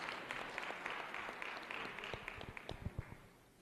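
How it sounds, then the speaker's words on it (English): A crowd applauds at a public hearing on the railway held by a transport portfolio committee, with dense, fairly faint clapping that runs steadily for a few seconds while scattered louder claps and low thumps poke through. "Can we give ourselves a big round of applause?"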